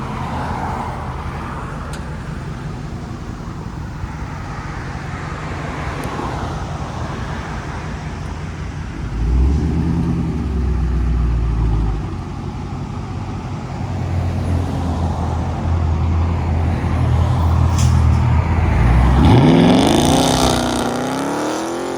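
A Dodge Charger SRT with a 6.4L (392) V8 and mid-muffler delete idles with a deep burbling exhaust, then blips the throttle in loud, close rasping revs, with a final sharp rev climbing toward the end.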